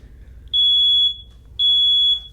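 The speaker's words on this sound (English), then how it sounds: "It's a fire alarm." A fire alarm sounds two long, piercing high-pitched beeps, each about half a second, loud and close, separated by a short gap over a faint low hum.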